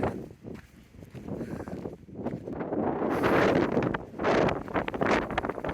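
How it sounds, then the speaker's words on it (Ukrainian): Strong Atlantic Ocean wind in Lagos, Portugal buffets the microphone in rough, uneven gusts, roaring louder toward the end, with no voices. "Тут дуже вітряно."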